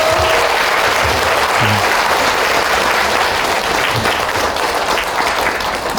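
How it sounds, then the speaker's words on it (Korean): An audience at a Daejeon lecture hall applauds, dense loud clapping that fills the space steadily and evenly for several seconds without a pause. "여러분 꿈꾸시는 분들 큰 박수 한번 부탁드립니다."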